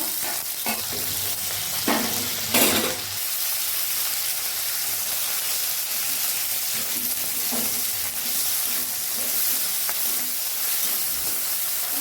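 Cumin seeds and green chilli sizzle in hot oil with a continuous bright frying hiss. A few louder spits and crackles rise briefly near the start.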